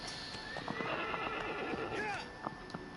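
A horse whinnies loudly in Shadow of the Colossus, with game hoofbeats clip-clopping beneath and a voice speaking over the game audio.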